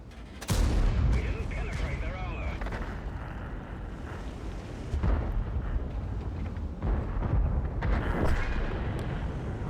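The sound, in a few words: tank cannon firing in a tank video game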